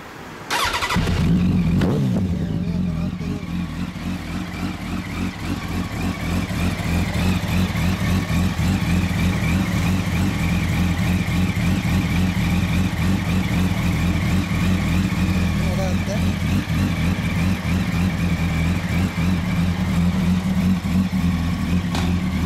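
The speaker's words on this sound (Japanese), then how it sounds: "アクラボのエンジン音聞かせて" A 2007 Yamaha YZF-R1 sport motorcycle with an Akrapovič exhaust fires up with a sharp burst, then idles steadily with a deep, throaty burble from the loud exhaust, recorded up close.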